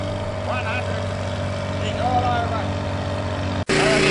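A V8-powered International tractor engine pulling at a vintage tractor pull in Muckleford, a loud sustained engine roar with rising pitch, recorded at a distance, interrupted by an abrupt cut near the end, with an announcer speaking over it.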